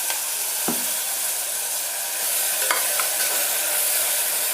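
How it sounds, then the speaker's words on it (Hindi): Blended fenugreek paste for methi pulao sizzling and frying in a hot pan, a steady crackle with a couple of scraping stirs, no talking. "ये अच्छे से फ्राई हुआ है।"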